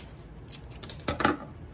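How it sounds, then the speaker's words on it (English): Scissors snip off excess paper from a rolled paper bead, giving a few close, quiet, crisp cuts with a louder final snip. "Cut the excess off."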